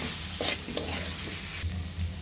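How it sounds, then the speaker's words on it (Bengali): Fried potatoes stir-fried with spice paste in a pan for a prawn and spring onion chorchori, an even close sizzle broken by a few scraping stirs, with no talking. "এখন মশলার সাথে ভালোভাবে আবার কষিয়ে নিতে হবে।"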